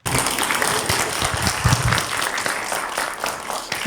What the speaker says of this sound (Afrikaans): Ek kom ons klap vir hulle hande,